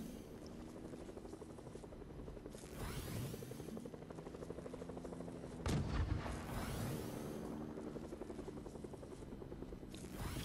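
A helicopter in the Fortnite video game gives a steady, droning rotor hum throughout, with sweeping whooshes and a sharp boom or burst of gunfire partway through, and no talking.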